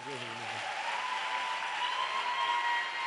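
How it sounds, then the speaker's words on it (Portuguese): A church congregation claps together in steady, even applause; a voice is heard briefly at the very start before the clapping carries on alone. "Quem quer louvar a Deus aqui, aplaudir"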